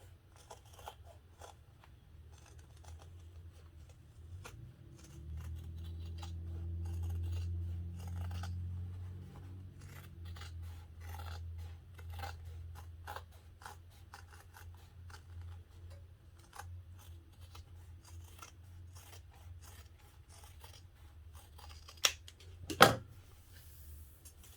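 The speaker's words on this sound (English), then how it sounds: "I'm going to trim the seam allowance down the sides and around the corners and along the bottom" Fabric shears trim a sewn pocket's seam allowance to about an eighth of an inch along the sides and bottom and clip its corners, giving faint, scattered snips over a low hum, with one sharper crunchy cut near the end.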